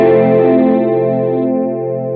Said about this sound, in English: The 70s chorus is what I meant to choose.